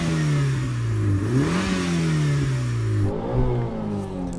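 A Mitsubishi Evo VI engine revs up and down repeatedly toward a 7,500 rpm limiter, a loud close droning whine rising and falling in pitch as the throttle is blipped.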